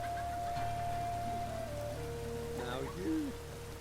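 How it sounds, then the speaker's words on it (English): Rain falls in The Witcher 3 as a steady, soft hiss under a sustained musical drone, with a brief tonal sweep near the end and no talk. "And it's raining again."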